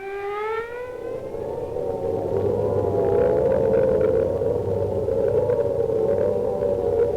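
A WWII British air raid siren winds up in pitch, then holds a loud, steady wailing tone, sustained and alone for several seconds.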